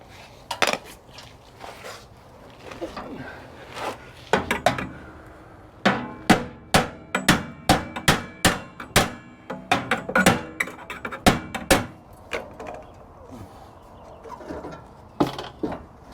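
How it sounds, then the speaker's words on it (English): Hammer strikes drive carriage bolts through vehicle steps, sharp metallic bangs that come scattered at first, then in a fast, steady run of blows before tapering off, loud and close. "I'm going to go and actually use the hammer and bang the carriage bolts through."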